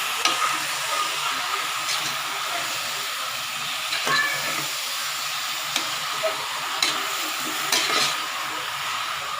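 Chicken and potato curry masala is stirred in a pan, with a steady sizzling hiss and a series of sharp spatula scrapes about every second or two, close and distinct.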